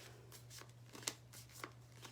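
Playing or tarot-style cards shuffled softly up close in a quiet room, a series of faint riffling flicks and light slaps over a low steady hum.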